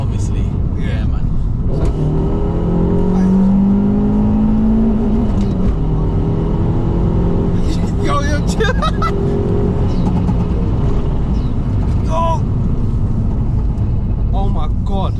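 A 2009 Abarth 500 Stage 1+ front-wheel-drive car driving hard on a track, engine droning and rising in pitch as it revs, with people talking loudly inside the cabin throughout.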